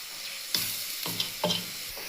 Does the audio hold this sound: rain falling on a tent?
no